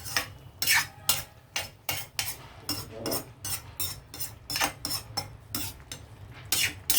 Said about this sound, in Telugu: ఇదంతా బాగా కలిపిన తర్వాత మనం ఇందులో ఎగ్స్ వేసేద్దామండి